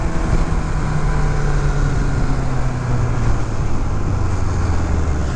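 A 1982 Kawasaki GPZ1100 motorcycle pulls away with loud, steady engine roar and a low pitch that gradually drops as it rides off, the noise continuous and close with no voices.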